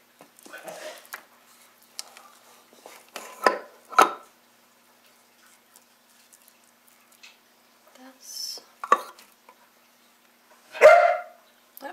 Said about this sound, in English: sounds like the dogs are barking